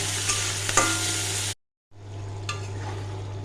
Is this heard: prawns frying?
yes